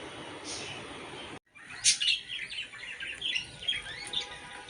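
Pet budgies chatter and chirp in their cage, a cluster of quick, bright tweets and warbles close by after a brief lull, moderately loud and irregular.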